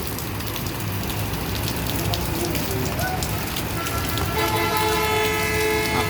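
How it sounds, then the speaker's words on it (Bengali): Rain falls on a road as a steady, dense hiss, with vehicle noise underneath and a drawn-out horn tone joining in the second half. "বৃষ্টির পানি রাস্তাতে জমেছে, ভালো বৃষ্টি হচ্ছে।"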